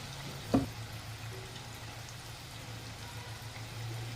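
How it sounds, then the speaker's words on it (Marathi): Onion bhaji fritters frying in hot oil, a soft, steady sizzle with one sharp clink near the start and a slight swell toward the end, no voices. "ह्याला असं तळून द्यायचं थोडंसं मग आपल्याला उलटे पालटे करायचे"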